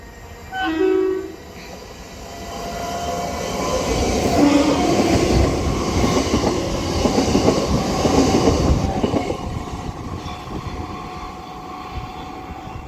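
A London Overground Class 710 electric train in refurbished livery passes on the West Coast Main Line at Runcorn, opening with a short horn blast, then a long rising rumble and rattle of wheels that swells, holds and slowly fades.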